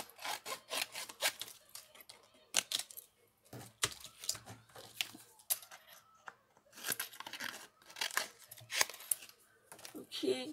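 A piece of paper is cut off for papercraft card making with a small die, heard up close as irregular rasping, crinkling bursts separated by brief quiet gaps.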